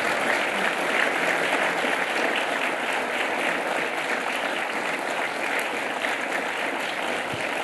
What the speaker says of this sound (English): Give an applause for yourself.